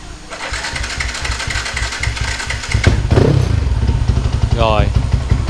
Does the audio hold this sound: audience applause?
no